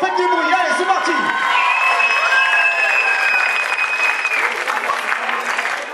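A live audience applauds loudly and continuously, with cheers and whoops rising from the crowd, the clapping dense and close throughout.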